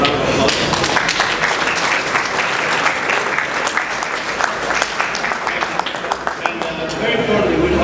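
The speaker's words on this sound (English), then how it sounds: "please give me a hand up and round of applause" A crowd at a garage dedication ceremony gives a loud, continuous round of applause, dense clapping filling the whole stretch with some voices and cheers mixed in.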